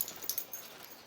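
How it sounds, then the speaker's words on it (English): A puppy whimpers softly while gripping an object in its mouth, a few faint high yips close by in a quiet room. "now this puppy does not want to let go of this thing"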